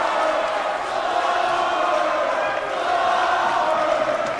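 Basketball arena crowd roars steadily during a college men's game between Yeshiva and Saint Joseph (CT) after a flop warning, a dense, continuous wash of voices at even loudness throughout.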